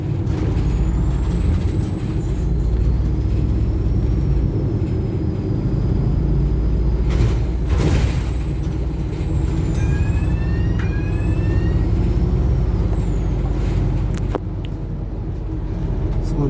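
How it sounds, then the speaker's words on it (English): A local bus in Halifax speeds along with a deep, constant engine rumble and road roar, punctuated by occasional hisses and rattles, heard from inside the cabin. "once again the bus is going rather fast"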